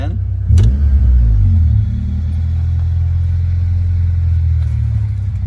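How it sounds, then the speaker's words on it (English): A warmed-up 1995 Honda Civic engine with an idle problem gets a quick tap of the gas, a short close rev that falls back to a steady low rumbling idle. "Gonna tap the gas and see if she does."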